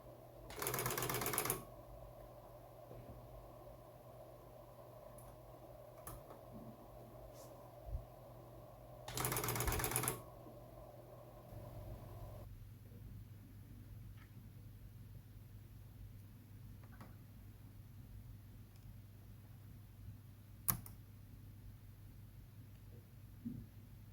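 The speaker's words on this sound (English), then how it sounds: "The drum rotates to the position for the next pen." A Sharp CE-1600P plotter drum turns to its pen change position in two short, loud mechanical whirring bursts several seconds apart, close by, with a quiet hum and a few faint clicks between them.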